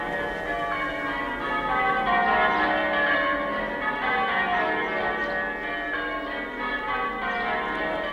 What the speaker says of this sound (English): Oh, the tintinnabulation that so musically wells, and the rhyming and the chiming of the bells, bells, bells.